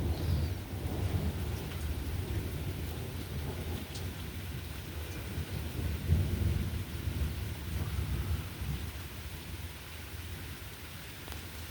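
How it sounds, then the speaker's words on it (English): A thunderstorm with light rain: a steady hiss of rainfall is punctuated by deep, rolling rumbles of thunder that swell and fade, with no voices. "I know you definitely can see the lightning and hear the thunder"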